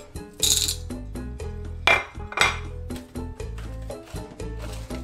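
Black beans rattle and clatter inside a homemade maraca, shaken in sharp, uneven bursts with bright clinking hits and a few louder accents, close and alone.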